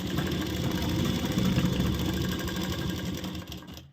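A sewing machine hums continuously at close range, stitching a seam down to the bottom of a garment with a side pocket and zip, alone without talk.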